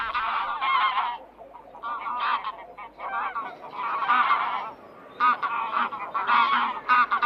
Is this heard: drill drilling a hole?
no